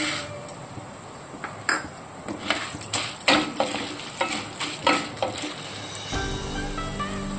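Urad dal and chana dal dry roasting in a pan without oil for curry leaf spice powder, stirred with a spatula that scrapes and clinks against the metal in steady rhythmic strokes, close and moderately loud, with a soft sizzle underneath.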